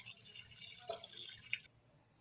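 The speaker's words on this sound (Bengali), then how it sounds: "আর মাছটা আমি ধুয়ে নিই ততক্ষণে" Pangas fish being rinsed in water gives soft, quiet splashing and dripping, with a couple of brief trickles before the sound drops away.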